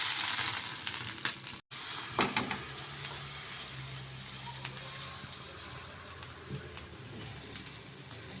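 Rava roti dough pressed by hand onto a hot tava gives a steady, close, broadband sizzle with crackling fry noise and occasional soft pats and taps, continuous throughout apart from one brief dropout.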